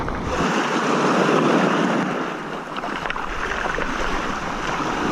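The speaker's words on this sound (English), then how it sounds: "the waves are fun, but they're crumbly" Crumbly ocean waves breaking off Kiribati, a steady roar of surf with wind buffeting the microphone, fairly loud and continuous with no voices.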